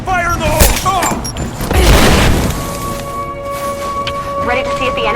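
Loud explosion followed by a burst of gunfire in the PS4 action game Rise of the Tomb Raider, with a heavy boom and crackling debris, while characters shout over the blast.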